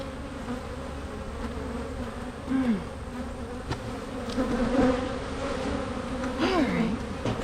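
Honey bees buzz steadily and densely while two hives are split, with individual bees swooping close past in wavering drones over the constant hum, and no talking.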